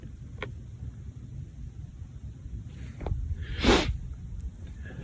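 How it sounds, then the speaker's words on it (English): A motorcycle passes far off at night in a forest, a faint engine swell rising and fading around the middle, over steady low wind rumble and background hum. "That's just a motorcycle or something."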